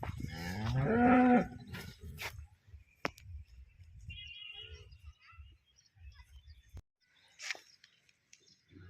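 A cow gives one loud, drawn-out moo, followed by quieter scattered rustles and clicks.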